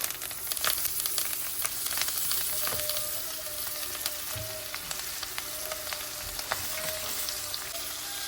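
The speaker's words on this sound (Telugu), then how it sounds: "ఇందాక నేను ఫ్రెష్గా కోసుకొచ్చిన పుదీనా వేస్తున్నాను" Freshly cut mint leaves sizzle and fry in a pan with sesame seeds for mint chutney, a steady close crackling hiss with occasional stirring scrapes.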